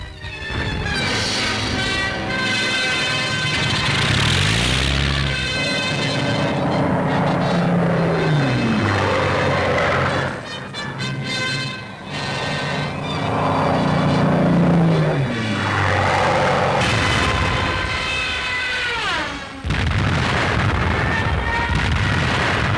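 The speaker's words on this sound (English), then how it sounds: "Ack gunners and fighter pilots go into action once more against Stukas, Ju-88s and all the rest of it" Wartime RAF film footage of anti-aircraft guns firing against Stuka and Ju-88 raiders, loud rolling bursts and booms with droning aircraft engines and whining dives, dense and continuous throughout.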